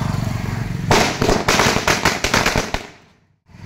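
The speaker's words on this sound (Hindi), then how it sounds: "ऐसे वाले बम दिला दिए, सुबह से चला रहा है" Diwali firecrackers burst in a quick, loud volley of sharp cracks over about two seconds, following a steady crackling hiss, then the sound falls away into near silence.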